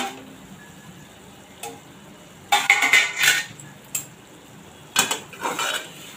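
A cooking pot's lid is lifted off in a few metallic clanks and rattles, followed by more clinks as it is set aside. A faint sizzle runs underneath, and no one speaks.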